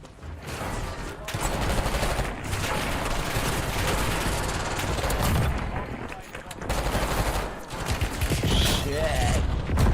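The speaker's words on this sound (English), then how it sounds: "Hostile airstrike inbound." A hostile airstrike in Call of Duty on Rebirth Island, with rapid bursts of gunfire and explosive impacts hammering loudly and continuously over a churning battle din for about ten seconds.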